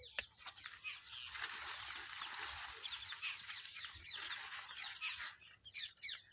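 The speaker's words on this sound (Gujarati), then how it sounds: "તમે ખેતરનો જે પક્ષીઓનો અવાજ તમને સંભળાતો" Birds chirp and chickens cluck around a farm field planted with maize, a steady chorus of overlapping high calls with occasional louder, nearer peeps, with no talking.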